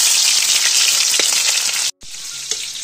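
Onions sizzle loudly in hot local oil in a home kitchen, a dense steady frying hiss with a brief stir-like dip near the end.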